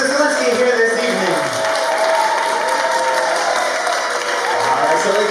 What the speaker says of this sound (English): How about a big round of applause once again to the new Mr. and Mrs. Golinski